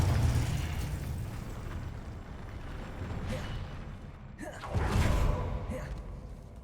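Confringo explosion spell in the video game Hogwarts Legacy: a rumbling blast with a whooshing burst near the end, over continuous low game noise.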